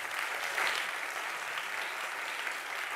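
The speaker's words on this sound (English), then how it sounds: "A round of applause" An audience at a policy dialogue applauds a panel speaker, a steady, fairly soft wash of clapping that carries on evenly and unbroken from start to finish.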